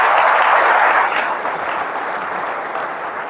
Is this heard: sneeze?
no